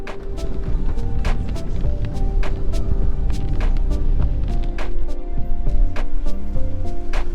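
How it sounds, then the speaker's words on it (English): Rain falling during a road trip between Proserpine and Eurimbula Creek, a steady dense patter with sharp drop impacts scattered throughout, heard close over a low vehicle rumble. "And now it's raining."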